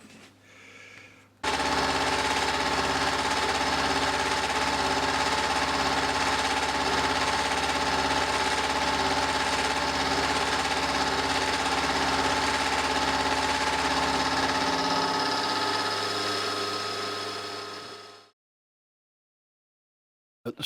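A face mill cuts a steel bar on a milling machine in a steady, loud, close grinding roar with a faint chattering undertone. It runs for about seventeen seconds and stops abruptly.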